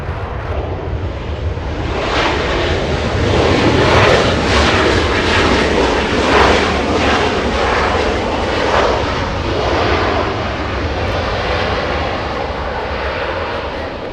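A Volaris airliner departs Los Angeles International Airport with a loud, sustained engine roar and a rushing jet noise that swells and then slowly recedes.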